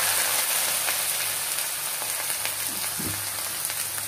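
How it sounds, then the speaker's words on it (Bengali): Spices sizzling in hot oil while chicken curry is being cooked, a steady close frying hiss with faint crackle throughout and no talk. "এক এক করে সব মশলাগুলো দিয়ে দেওয়া হচ্ছে"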